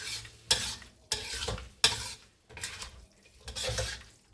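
Food sizzling in a frying pan while being stirred for a home-cooked lunch, with several distinct scraping stirs breaking through a steady hiss, close and moderately loud.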